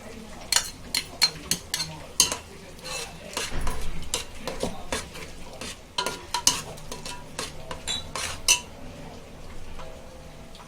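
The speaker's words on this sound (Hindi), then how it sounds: "अभी ये दही डालेंगे।" Yogurt is stirred into a Chinese biryani in a pot, giving repeated scraping and clinking of a spoon against metal with a faint sizzle between the strokes.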